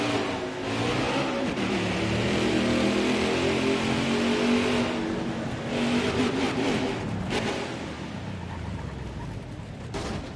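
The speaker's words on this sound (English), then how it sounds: "before he does his burnout" A NASCAR Craftsman Truck Series truck at Las Vegas Motor Speedway roaring through a burnout, loud sustained engine revving with shifting pitch, then rough bursts and tire noise tapering off toward the end.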